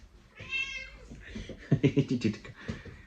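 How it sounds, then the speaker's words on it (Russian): A cat meows several times at close range, with a drawn-out complaining call followed by a rapid run of short, loud meows and one final cry. "Вот он, орхидейный кот."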